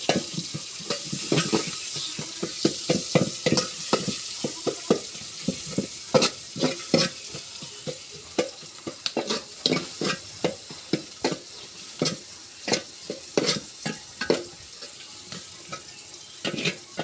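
Bay leaves, chopped garlic and onion fry in oil with a steady sizzle, while a spatula scrapes and clacks against the pan in a rapid, repeated rhythm throughout.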